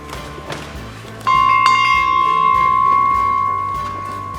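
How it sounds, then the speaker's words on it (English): A bell rings once inside a large participatory cardboard sculpture after a couple of soft knocks. Its clear metallic tone rings out loud and near and then fades slowly across several seconds. "we invite you to enter into the sculpture and ring the bell"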